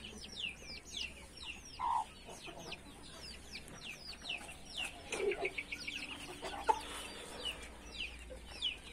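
A hen clucks and calls near a much smaller bird, with short scattered clucks and bird chatter over a soft steady background, no talking.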